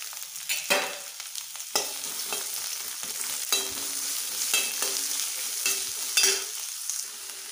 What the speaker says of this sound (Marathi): कांदा लालसर होईपर्यंत परतून घेऊया